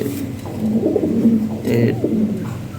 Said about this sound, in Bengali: হাই কোয়ালিটি কবুতর, শর্ট টেল, শর্ট সাইজ, একদম আপডেট দিনে আছে, নতুন কবুতর